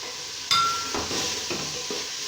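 Stirring peas seasoned with salt, black pepper and red chilli in a pan, with a few close scraping and clinking strokes of a utensil against the metal over a steady background hiss.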